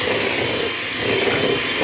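An electric hand mixer whirs steadily and loudly throughout while mixing pancake batter, a continuous motor drone with no voices.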